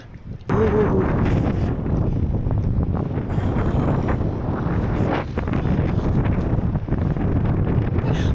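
A strong cold wind blows in Australia, buffeting the microphone with a loud, continuous rumbling roar that starts abruptly and holds steady for the rest of the clip.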